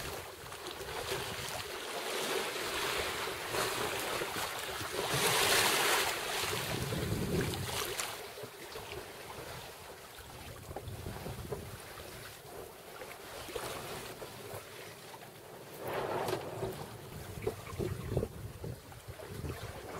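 A sailboat on the open ocean near the equator, with steady broadband wind and water rush, waves washing against the hull in swelling surges and gusts buffeting the microphone; no voices.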